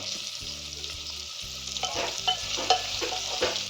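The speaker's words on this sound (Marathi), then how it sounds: "भाज्या थोड्या हलवून घेऊ" Mixed vegetables for veg handi are stirred and fried in a pan with a little salt, a continuous sizzle broken by a run of spatula scrapes and knocks toward the end, close up and without speech.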